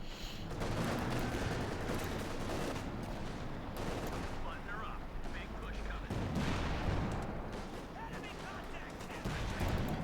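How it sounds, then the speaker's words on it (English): Artillery and gunfire rumble in a Company of Heroes 2 match between OKW and USF forces, with repeated booms and crackling shots under continuous excited commentary from a caster. "artillery firing down there again"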